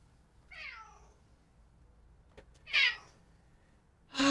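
A pet cat meows twice, each call clear and close, separated by a quiet pause, with a final sharp vocal burst at the end and no talking.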